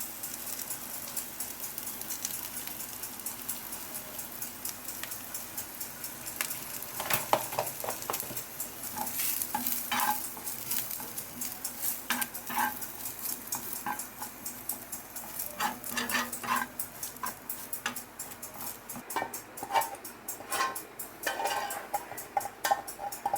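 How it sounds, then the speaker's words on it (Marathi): Ground coconut stirred and fried in a pan for chicken curry, with a continuous dry sizzle and repeated scraping clinks of a spoon against the pan throughout. "आता आपण त्यामध्ये वाटलेले खोबरं टाकणार आहे थोडंसं"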